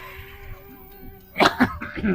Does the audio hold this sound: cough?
yes